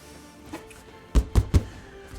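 Three dull, hollow taps land in quick succession on a taut Pictorem canvas print, soft and thuddy rather than ringing, against a quiet background.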